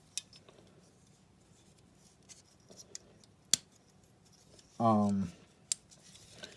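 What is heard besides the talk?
scissors on a Leatherman Wave multi-tool being handled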